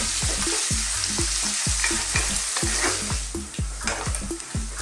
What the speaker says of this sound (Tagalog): Nagisa na natin yung ating minced pork.